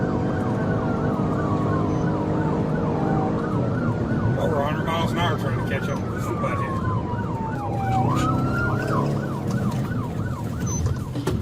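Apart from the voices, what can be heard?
police car siren on dash cam recording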